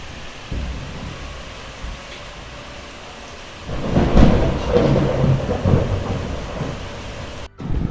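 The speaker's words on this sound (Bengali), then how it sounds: "বৃষ্টি আসছে জোরে" A heavy thunderstorm with rain hissing steadily, then a deep rolling thunder rumble swells and lingers loudly over the downpour, heard outdoors with no voices.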